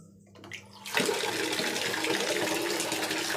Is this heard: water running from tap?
yes